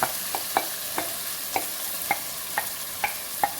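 Boneless chicken frying in a handi with roasted masala, a constant low sizzle punctuated by regular ladle scrapes and clinks about every half second while it is stirred close up, with no speech.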